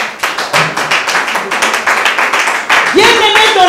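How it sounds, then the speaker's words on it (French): A church congregation claps together in a steady, fast rhythmic beat, loud and close, ending with a raised voice calling out over the room. "Acclamez pour le frère."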